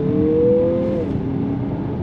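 A 2023 Mazda CX-50 compact crossover SUV accelerates, its engine note climbing steadily and then easing back to a lower drone over a continuous road hum, close and fairly loud with no talking.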